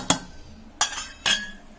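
A spoon clinks three times against a bowl while vada batter of urad dal, semolina, rice flour and salt is mixed, bright close metallic taps spaced apart.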